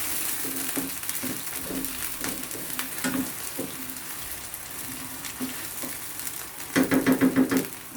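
Chopped onion frying in a pan as it is stirred, a continuous sizzle broken by scraping strokes and a quick run of rhythmic utensil taps near the end.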